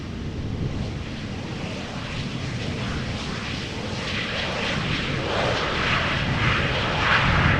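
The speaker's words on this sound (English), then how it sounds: "going to center is a 737-800 from KLM arriving from Paris Charles de Gaulle." A KLM Boeing 737-800 airliner arriving at Amsterdam Schiphol from Paris, its engines a steady broad roar that swells slightly toward the end, heard with no talk over it.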